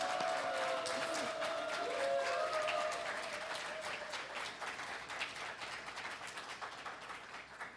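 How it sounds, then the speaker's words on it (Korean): An audience at a book launch keeps up dense, continuous applause after a speaker sits down, fairly faint and distant, with a brief tonal voice at the start, slowly easing off. "자리에 앉으시고도 한참 박수가 계속 이어져야죠"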